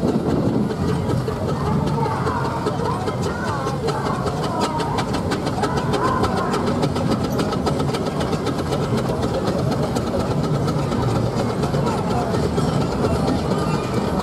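An Aveling steam roller runs past at the 2016 Netley Marsh steam show, a steady mechanical rumble with fast, regular chuffing clicks over outdoor crowd noise.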